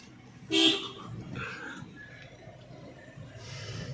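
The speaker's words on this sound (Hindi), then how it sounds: "रक्शे को आपको हॉर्न देना पड़ेगा" A rickshaw horn gives a short, loud honk in a narrow street, rising over the low rumble of traffic and street noise, with a fainter tone following later.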